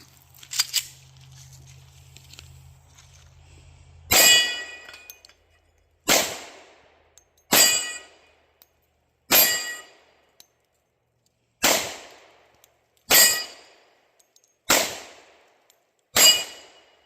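A 10mm Glock 29 compact pistol fires at steel targets, a Texas Star and knockdown plates, on an outdoor range: eight sharp, loud reports spaced one to two seconds apart, each with a short ringing decay.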